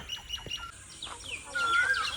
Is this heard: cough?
no